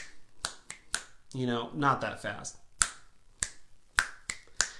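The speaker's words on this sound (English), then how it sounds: "let's try some snaps." Sharp finger snaps in a kindergarten music lesson, about eight crisp clicks spaced irregularly, with a short stretch of a voice talking in between.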